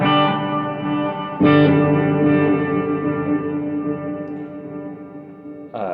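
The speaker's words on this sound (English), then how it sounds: "Fourth preset is a delay plus reverb." Sustained electric guitar chords ring out through a pedalboard delay-plus-reverb preset, each strum blooming into a long echoing tail, a new chord struck midway and another at the end.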